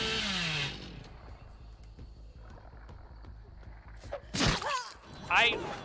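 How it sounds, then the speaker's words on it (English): Billy's chainsaw in the horror game Dead by Daylight, in the Black Water Swamp map, revs in a rough, sawing burst, with growling roars and sharp bursts near the end over a continuous low rumble. "Goes for the chainsaw."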